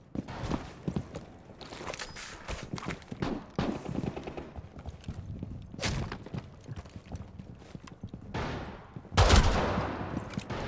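Pistol gunfire in Rainbow Six Siege: several sharp shots scattered through a busy match, with footsteps and gear movement between them and a louder burst near the end.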